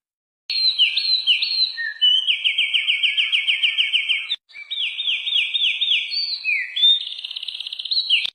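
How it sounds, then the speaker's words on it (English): A winter wren sings a long, loud, high song of rapid tumbling trills and chattering runs that changes pitch in bursts, with a short pause midway. "Winter wren."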